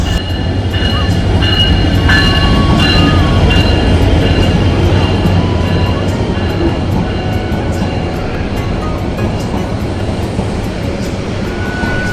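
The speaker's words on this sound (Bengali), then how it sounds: "এখন আমার ট্রেনটি এসে গেছে" The Upokul Express passenger train pulls into Comilla station with a loud, steady rumble of wheels and carriages, metallic clatter and screeching, and a hum of station voices beneath it.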